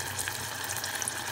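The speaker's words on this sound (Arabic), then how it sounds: "بقليهم بالزيت" Samosas frying in hot oil give a steady crackling sizzle with fine bubbling pops, close and continuous for a brief moment.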